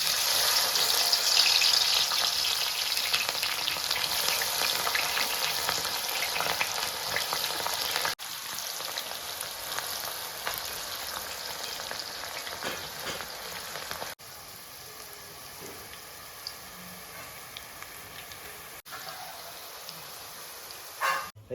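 Blanched potato peels fry in hot oil with a steady, crackling sizzle that sounds close and dominates throughout, easing down in a few distinct steps with no voices over it.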